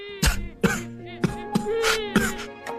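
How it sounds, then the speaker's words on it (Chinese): Violent, repeated coughing during a tense confrontation over an unpaid debt, with six or so harsh, strained bursts spaced unevenly over a few seconds, fairly close and loud with no talking. "剧烈的咳嗽声"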